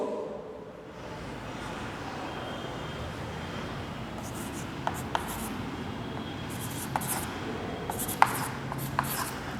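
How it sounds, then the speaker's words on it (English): A pen writing a math formula by hand on paper, faint soft scratching strokes with a few sharper ticks, close and quiet over low background hum. "Now I am writing here the formula of this."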